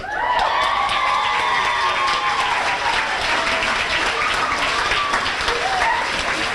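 A crowd at a high school sports banquet in Ste. Genevieve, Missouri, cheers and applauds loudly and steadily, dense clapping and shouts filling the room without a break.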